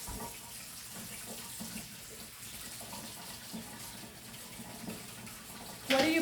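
Running tap water rinsing a paint brush, a steady, moderate splashing flow heard close up, ending with a brief louder knock near the end; no talking.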